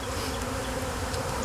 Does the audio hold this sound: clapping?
no